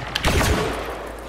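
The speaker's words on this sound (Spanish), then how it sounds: "Salen hasta dos disparos prácticamente." Blaster fire from Star Wars Battlefront 2: a quick burst of two sharp shots close together, followed by a fading echoing tail.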